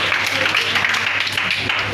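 A church congregation applauding at a children's celebration, a steady wash of many hands clapping close by with voices mixed in.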